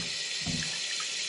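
Water runs from a faucet into a sink after a P-trap was cleaned, a steady close hiss of flow filling the basin.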